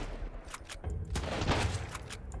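Scattered gunfire in the Sunkenland game during an outpost fight, a handful of distinct shots and a rumbling burst amid game ambience, moderately loud with no speech.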